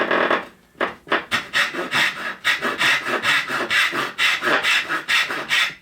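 A hand saw cuts wood for inlaid dovetail pins in a vise, with a few slow starting strokes giving way to a steady, even back-and-forth rasp of close, loud strokes with no talk.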